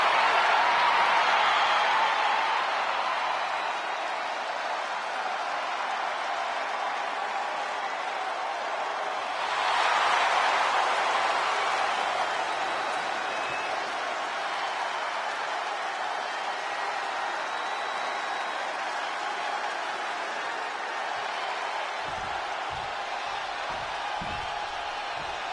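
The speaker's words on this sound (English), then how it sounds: "The entire crowd is yeeting!" Crowd cheering and roaring in a WWE 2K26 wrestling arena as a wrestler's entrance begins, a steady broad wash of noise that swells briefly midway, with some thumps near the end.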